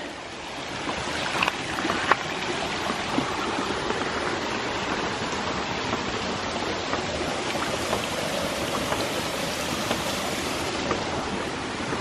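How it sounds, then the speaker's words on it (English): Rain-swollen stream water rushes steadily past an intake, a dense, loud, continuous roar that barely varies, with no talking. "definitely a lot of water flowing through here today"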